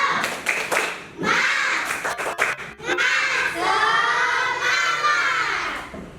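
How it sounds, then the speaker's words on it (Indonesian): A group of schoolchildren clap and cheer for their classmates in the red group, bursts of clapping followed by sustained excited shouting voices in a classroom. "Tepuk tangan dulu untuk kelompok merah."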